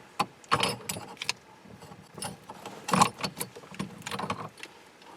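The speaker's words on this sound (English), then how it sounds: "we're going to take our steering wheel lock ring tool, and we're going to screw it on" A steering wheel lock ring tool screwed onto a GM steering column gives scattered metallic clicks and light rattles, a few sharper taps among softer handling noises, close and moderately loud with no talking.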